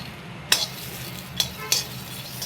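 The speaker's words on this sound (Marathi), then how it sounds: "हे भाजायला लागलाय आता पावटा" Pavta beans dry-roasting in a pan, with a faint steady sizzle broken by a few sharp scraping stirs of a spatula, close and alone with no voices.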